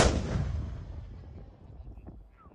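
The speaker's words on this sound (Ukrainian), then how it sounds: "Постріл!" A single loud, heavy gunshot booms at the start, then its echo rumbles and fades away over a couple of seconds.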